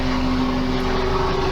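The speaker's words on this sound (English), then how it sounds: "Every time I do a video, a helicopter has to fly over." Helicopter flying overhead: a steady droning engine and rotor hum with a strong tonal note, loud and continuous throughout, no voices.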